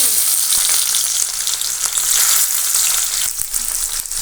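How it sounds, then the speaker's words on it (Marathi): Onion frying in hot oil in a pan, with a dense, steady sizzle running loud and continuous throughout, broken by a few faint clicks of stirring. "पॅनमध्ये तेल टाकलंय आपण कांदा"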